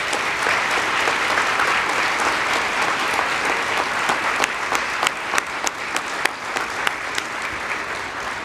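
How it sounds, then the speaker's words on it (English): An audience at an anti-corruption champions award ceremony applauds in a thick, continuous wash of clapping, with a few sharper individual claps standing out toward the end. "How about one more round of applause for our champions?"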